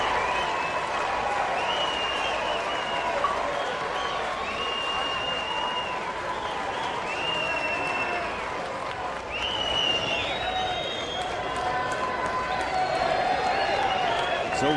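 A large crowd of Vanderbilt Commodore baseball fans applauds at Hoover Met during the SEC Tournament championship game against LSU, a dense, continuous wash of clapping and crowd noise with scattered high whistles throughout.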